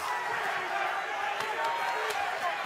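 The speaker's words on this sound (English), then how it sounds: "The crowd start to cheer him on." Boxing crowd at a Tim Tszyu fight cheering him on at the end of a strong round, a steady broad roar of voices with a few sharper shouts rising above it.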